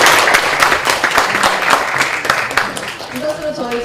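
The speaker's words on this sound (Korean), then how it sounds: "열정적으로 강의해주신 교수님께 다시 한번 큰 박수 부탁드립니다." A lecture audience at a public seminar applauds the professor, dense clapping filling the room with speech-like sounds mixed in, easing off toward the end.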